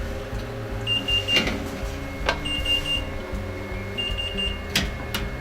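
A Patamix kitchen machine runs its pâte à choux program with a steady mechanical whir, a few short electronic beeps and clicks over it, no talking.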